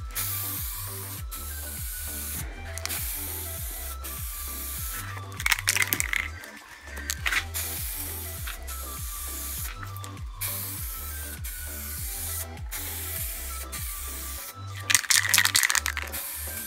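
Short hissing bursts of spray paint coat the fork of a Rieju MRX 50cc dirtbike, a few loud sprays spaced apart over a repetitive backing beat.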